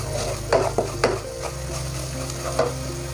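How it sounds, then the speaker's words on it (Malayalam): Coriander powder sautéed in oil for a Kerala seer fish head curry: a soft, low sizzle under a few brisk scrapes of a spoon stirring the pan. "ഇനി നമുക്കിതിലേക്ക് മല്ലിപ്പൊടി ചേർത്ത് വഴറ്റിയെടുക്കാം."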